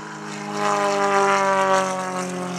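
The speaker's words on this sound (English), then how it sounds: "He's got a 300 horsepower Lycoming 6-cylinder engine up front there." An Extra 300 SP aerobatic plane with a 300-horsepower Lycoming six-cylinder engine drones steadily at an airshow, a loud, harmonic propeller hum swelling slightly as it passes, with no talk.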